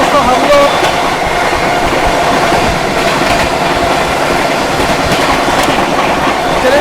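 A passenger train on the Bihar to Delhi route speeds past near the Prayagraj Lalgarh Superfast Express, with loud continuous rail rumble and rhythmic wheel clatter while a voice speaks briefly over it.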